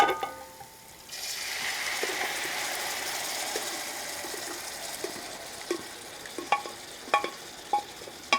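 Beef poured into masala in a pan for a Kerala-style beef pepper roast sets off a sudden loud sizzle that continues steadily, followed by a few sharp clinks of stirring.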